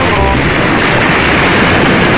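Sea waves washing in at a beach, a continuous loud roar of surf with heavy wind buffeting the microphone and no distinct individual breakers.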